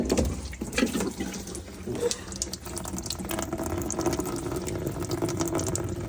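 Water runs and splashes steadily from the condensate drain hose of a Viessmann combi boiler during cleaning, a continuous close trickling gush filling the scene without speech.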